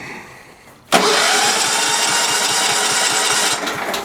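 John Deere STX38 lawn tractor engine cranking and catching after a quiet moment, then settling into a loud, steady idle with a rapid rhythmic putter, close by.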